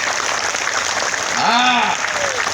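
Crowd clapping at an outdoor political rally in Shadhora, a steady wash of applause with a few shouts and a whistle-like voice rising briefly over it.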